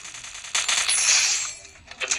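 Rapid automatic gunfire in the mobile battle game Free Fire, a dense, bright burst of shots lasting about a second, followed by a few fainter scattered shots.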